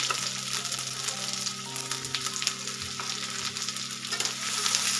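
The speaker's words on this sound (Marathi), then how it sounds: "हे वाटण त्याच्यामध्ये घालून घ्यायचं तेलामध्ये आणि ते व्यवस्थित परतून घ्यायचं" A paste of coconut, garlic and ginger fries in oil, with a steady close sizzle and occasional stirring scrapes and clicks, and nobody talking.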